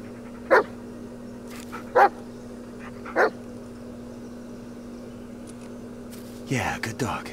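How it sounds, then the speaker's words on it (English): Three sharp single dog barks in a video game, spaced about a second apart, each short and clear over a low steady hum, followed by a brief shuffling burst of game sound. "Yeah, good dog."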